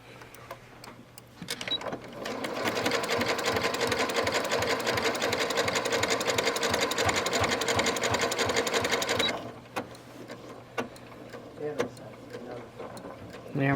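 A sewing machine runs a zigzag stitch along a bag gusset in one steady, rapid mechanical run of about seven seconds, then stops, with quieter handling clicks before and after.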